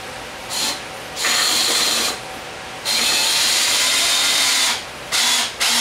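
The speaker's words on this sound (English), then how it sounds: "I'm using 2-inch powerhead fast cap screws with the Torx bit." A power drill with a Torx bit drives 2-inch powerhead screws through washers while building a plant table, whirring in several close, loud bursts of a second or more, separated by short pauses.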